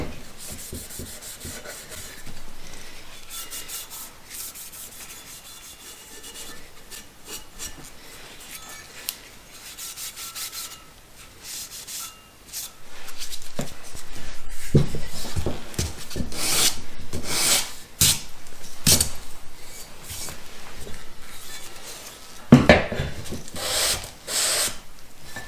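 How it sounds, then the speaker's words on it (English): A patina finish being burnished by hand on a wooden fireplace mantel shelf, with steady rubbing and rasping strokes that grow louder and more vigorous in the second half, close up with no speech. "So I'm going to burnish this a little bit."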